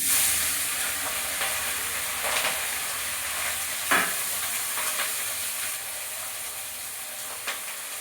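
Fish frying in a pan with cumin, a steady close sizzle and hiss with occasional stirring scrapes and a couple of brief pops.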